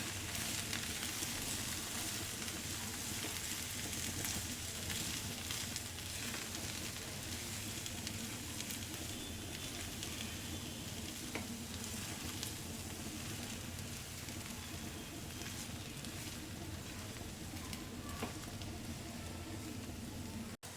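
Spiced potato tikki mixture with turmeric, garam masala, salt and amchur powder roasting in a hot pan for a veg cheese burger, a steady dense sizzle and crackle running unbroken and fairly loud throughout, with no talking.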